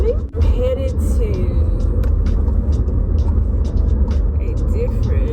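A car driving on the road heard from inside the cabin, a loud steady low rumble of engine and tires with faint rattles and bumps, while a person talks over it.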